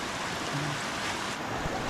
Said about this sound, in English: It's a nice waterfall they've got here.